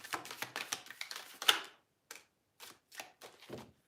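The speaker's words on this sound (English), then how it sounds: "Let's put some cards down on the table." Tarot cards are laid down on a table in quick, light taps and slaps, a dense burst first and then a few separate placements after a short pause.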